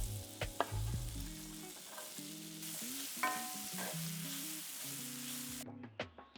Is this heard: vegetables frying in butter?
yes